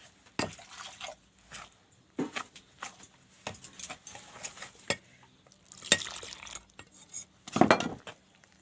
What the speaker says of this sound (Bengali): এই চালগুঁড়ির মধ্যে ডালটা মিশিয়ে নিয়ে ব্যাটারটা বানিয়ে নেব